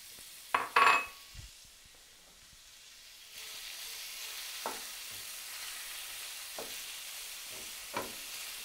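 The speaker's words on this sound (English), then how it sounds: "I'm gonna put in about 4 or 5 tablespoons of olive oil. Put in the carrots. We wanna saute everything." Carrots sauté in a pan of olive oil, with a soft steady sizzle, a few clinks of utensils and pan at the start, and light stirring scrapes, close and quiet.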